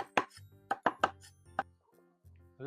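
A knife chops green onions for a steamed egg hotpot: a handful of sharp, close, irregular cuts against a board with short pauses between them.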